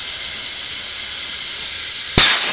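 Compressed air hisses steadily from a boost leak test blocker on a BMW 335i N54 twin-turbo engine, ending in a brief, louder burst as the blocker starts to pop out.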